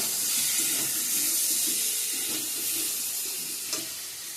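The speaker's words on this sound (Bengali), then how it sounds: "জল দিয়ে দেবো এখন" Water hits a hot pan of fried spice paste and sets off a loud, continuous hissing sizzle close by that lasts the whole few seconds, with no talking.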